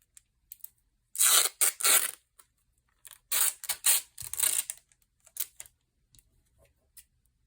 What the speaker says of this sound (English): Now we are going to tape down the bag edges.